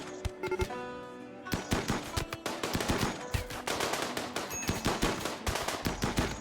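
Rapid video-game gunfire during a RimWorld raid, dense bursts of automatic shots and scattered single cracks layered over each other, continuous and loud throughout.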